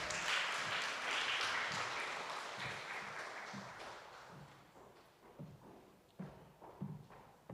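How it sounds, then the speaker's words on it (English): Scattered applause from an audience at a postgraduate welcoming event, fading gradually, followed by a few thumps and taps near the end. "A round of applause again."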